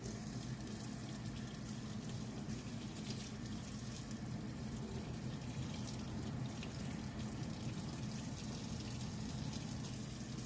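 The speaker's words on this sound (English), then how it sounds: "rotate one arm at a time under the water so that the water flows from the lathered area of our forearm to our fingertips" Tap water runs steadily into a sink while hands and forearms are rinsed one arm at a time, a constant close splashing hiss with no voices.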